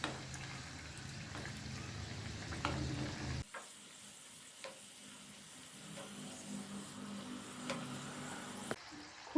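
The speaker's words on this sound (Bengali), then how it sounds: "মিডিয়াম টু হাই ফ্লেমে 2 থেকে 3 মিনিট ভাজলেই রোলগুলো ভাজা হয়ে যাবে।" Snack rolls fry in hot oil over a medium-high flame, giving a steady soft sizzle and bubbling that drops briefly quieter midway, with occasional light stirring.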